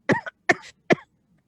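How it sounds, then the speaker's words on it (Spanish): Three short, dry coughs in quick succession, close to the microphone, form a brief coughing fit during an online webinar, followed by silence. "Me dio un ataque de tos."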